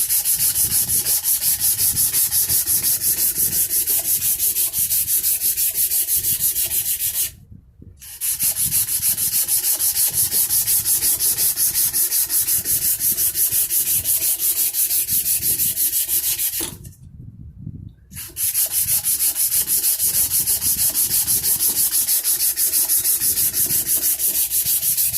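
Rough, continuous sanding strokes rasp along the back of a wooden guitar neck, loud and close, with two brief pauses between long runs of rubbing.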